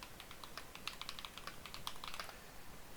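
Keys pressed on a computer keyboard, a quick irregular run of light clicks and taps, close but quiet, with no voices.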